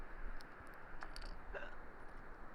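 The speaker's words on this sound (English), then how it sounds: "has the hiccups" Hiccups from a hiker climbing toward the summit of Banner Peak in the Ansel Adams Wilderness, a few short sharp gasps spaced over a couple of seconds against steady outdoor wind noise.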